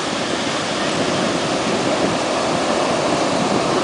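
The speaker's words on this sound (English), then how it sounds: "the waves are exceptionally brilliant today" Ocean waves break on an eroding sandy beach in a loud, continuous roar of surf that stays full and steady with a windy rush and no talk.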